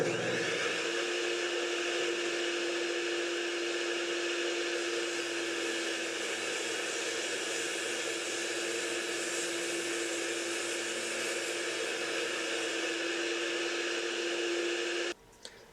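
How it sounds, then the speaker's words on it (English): A power saw trims the edges of an old wooden board, giving a loud, steady whine with a constant pitch for about fifteen seconds before cutting off abruptly. "Here I'm cutting the edges of the board to bring the two sides parallel."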